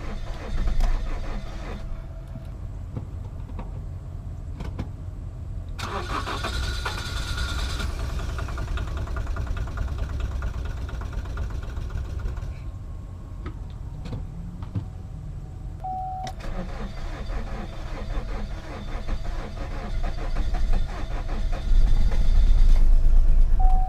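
A diesel Chevy Cruze that is running rough, its engine turning over and then settling into a steady low rumble with a faint whine on top, heard up close and growing louder near the end, with no talking.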